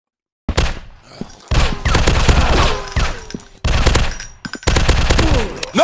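Automatic weapon fire in the zombie shooter Zombies Fire Strike, set in an industrial level: dense, loud rattling bursts of gunshots that start after a brief silence, come in repeated volleys with short pauses between them, and carry game effects layered over the shots.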